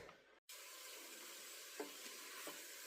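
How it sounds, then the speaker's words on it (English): Soft, steady sizzling of wild mushrooms frying low and slow in a pan, a continuous quiet hiss with a few faint clicks, no voices. "it's sizzling like this, you got to make sure to keep stirring it"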